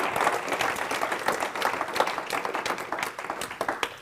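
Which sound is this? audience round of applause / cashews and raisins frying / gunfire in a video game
audience round of applause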